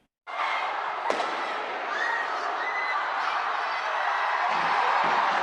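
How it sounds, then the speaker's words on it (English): Continuous roar of a large outdoor crowd with a sharp bang near the start and scattered pops, fireworks bursting over cheering people at New Year 2025 celebrations. "fireworks have been lighting up the skies as countries say hello to 2025"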